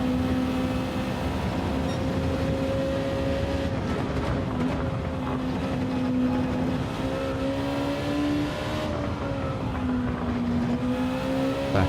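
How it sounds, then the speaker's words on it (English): Tires on a race car in a video game time trial squeal at the back end, a thin sustained whine wavering over a steady engine drone at moderate level, with no talking. "Back end is squealing a wee bit."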